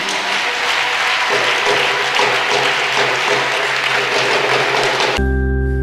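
A church congregation claps and applauds the Lord in a sustained, loud burst of steady clapping with a few crowd voices, which cuts off abruptly near the end into a held tone.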